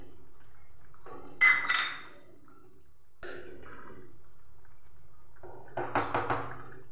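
A metal lid set onto a cooking pot of sweet tamarind-style chutney on a gas stove, giving a couple of sharp clanks with short rattles, then a later cluster of small taps and clinks.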